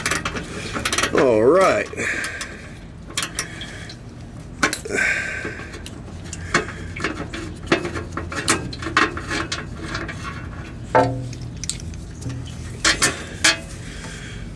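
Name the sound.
ratchet removing transmission pan fasteners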